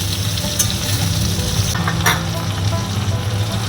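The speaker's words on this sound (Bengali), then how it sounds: "কচুরলতিটা এখানে একটু ভাজা ভাজা হয়ে গেছে নুন হলুদ মিষ্টি দিয়ে" Kochur loti (taro stolons) fry in a pan with salt, turmeric and a little sugar, a steady close sizzle throughout with a few brief stirring scrapes and no voices.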